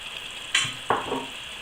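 Sliced onion hitting a hot pot of browning meat and bacon for a Provençal daube, giving two sudden bursts of sizzling over a steady soft frying hiss.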